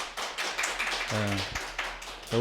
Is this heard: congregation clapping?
yes